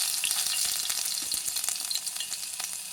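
Ginger garlic paste fries in a pan, giving a loud, close, continuous sizzle full of dense crackling pops with no voices over it.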